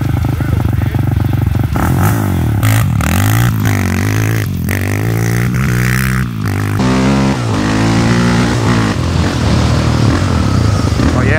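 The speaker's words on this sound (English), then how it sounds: "So Mike is about to take his first rip on the Raptor 660." A Yamaha Raptor 660 quad roars loudly nearby, its engine revving hard and changing pitch as it is ridden, with rattling and scraping clatter mixed in.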